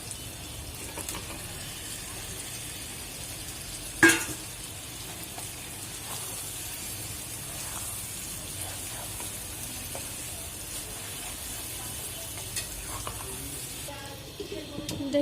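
Fried eggs go into cooked spice masala for a Bangladeshi-style egg curry, with a steady low sizzle in the pan, one sharp utensil knock early on and faint stirring noises throughout.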